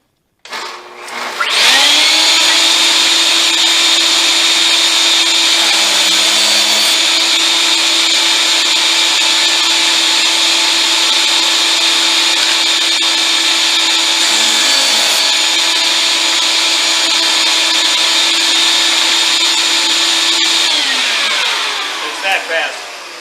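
A table saw rips strips of wood for a pencil box, the blade set with three teeth above the stock: a loud, steady whine with a strong tonal hum spins up, holds for about twenty seconds, then winds down.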